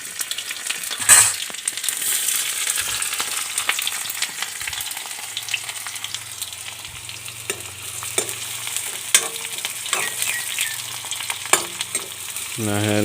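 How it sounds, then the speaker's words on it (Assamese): Onions sizzle in hot oil in a pan, a steady crackling fry with occasional stirring scrapes and clinks, close and continuous without talk. "এতিয়া তেল গৰম হ'ল এতিয়া পিঁয়াজবোৰ দি দিওঁ"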